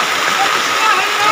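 Floodwater from heavy rain in Silchar pours through a shop on Muktaram Road, a loud, constant rushing and splashing with a voice over it.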